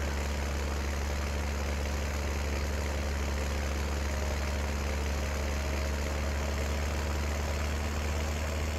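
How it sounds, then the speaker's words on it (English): A cement truck engine idles in Farming Simulator 19 as a steady, low, droning rumble under faint broadband noise. It runs unbroken throughout, with no voices. "And now I'm behind a cement truck."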